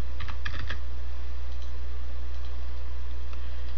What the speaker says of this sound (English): Type in your new height in pixels and click on the Update button.